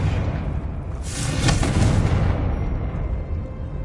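Confringo fire spell blasting in Hogwarts Legacy, a dense booming burst that swells around the middle and rumbles on over steady low game noise, with no talk.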